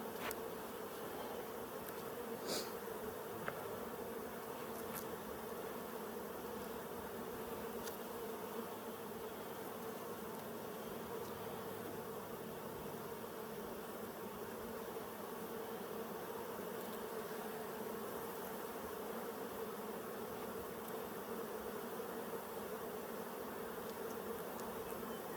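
Honeybees drone in a dense, steady hum around a beekeeper's hive in Colorado, agitated and persistent, close and even for the whole stretch with a few individual bees zipping past.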